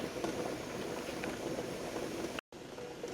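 Continuous rushing hiss of steam venting from a canning pot on the stove while bacon pieces are canned, a dense steady roar with a brief cut near the end.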